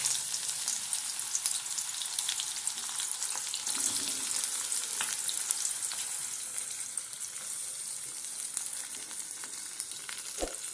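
Chopped onion and potatoes fry in hot oil in a pan with a dense, even hiss that holds steady and close, with faint scrapes now and then and no talking.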